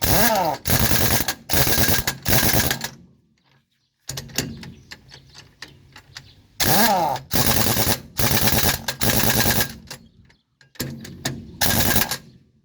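A pneumatic impact wrench removes wheel nuts from a truck's rear wheels during a change of worn-out tires. It fires in loud, close, rapid hammering bursts of a second or two each, broken by short pauses and quieter clanking between runs.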